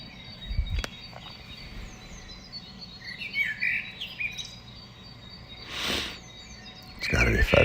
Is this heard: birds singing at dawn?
yes